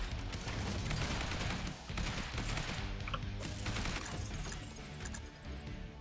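Pump-action shotgun fire in the zombie survival game Yet Another Zombie Survivors comes as dense, overlapping bursts of shots amid constant game effects, fairly faint overall with brief lulls between volleys.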